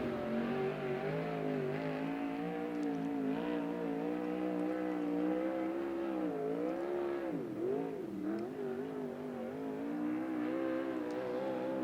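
USAC Southwest race car accelerating around Central Arizona Speedway, its engine a sustained harmonic whine rising and dipping in pitch as it works through gears and the turn, heard at a moderate distance, steady throughout.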